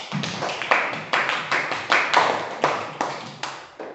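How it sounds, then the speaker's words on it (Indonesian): A small group of students claps in uneven rhythm in a classroom, individual hand claps distinct and close, lasting a few seconds. "beri tepuk tangan untuk kelompok 4"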